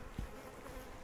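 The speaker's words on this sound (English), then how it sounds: "these bees are a little bit toey today" Honeybees at an open Flow Hive hybrid box during a honeycomb inspection, a steady, restless buzz of many insects close by, with a brief low thump early on.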